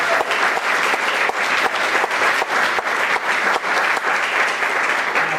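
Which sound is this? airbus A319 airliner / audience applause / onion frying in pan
audience applause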